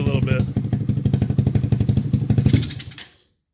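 A motorcycle engine fitted with a Nibbi 24mm carburetor, running warm with the choke down, chugs in rapid, uneven pulses that stumble and bog, then fade abruptly to silence. A voice is briefly heard near the start.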